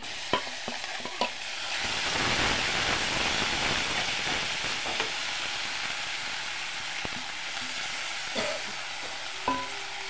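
Spice paste hits hot oil in a pan after bay leaves, for a Bengali salted hilsa head and Malabar spinach dish. A steady loud sizzle and hiss carries on throughout, with a few sharp clinks of a spoon against the pan.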